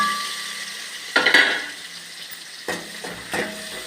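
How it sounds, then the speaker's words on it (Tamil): Green chili and onion hit hot oil with mustard seeds, giving sudden bursts of sizzle and clatter after a quiet start, then two shorter spurts. "இப்போ பச்சை மிளகாய் போட்டுறோம் பாருங்கள், சரிதா? இப்போ வெங்காயம் அது கூட வெங்காயம் போடுறேன்"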